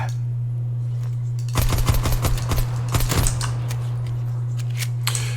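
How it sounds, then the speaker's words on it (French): A full-automatic rifle fires in Call of Duty, two quick bursts of sharp rapid shots over a constant low electrical hum, then fading to scattered faint clicks, with no talking. "Un beau gros fusil full automatique."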